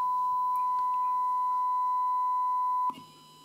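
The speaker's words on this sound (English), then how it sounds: "FM modulation, 1 kilohertz tone. Now I'm going to change that to AM modulation." Steady 1 kHz test tone, AM modulated, from the speaker of a Nordmende Transita TS De Luxe radio: a pure, unbroken whine with faint background hiss that cuts off abruptly near the end, leaving a low hum.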